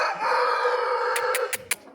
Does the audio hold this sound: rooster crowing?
yes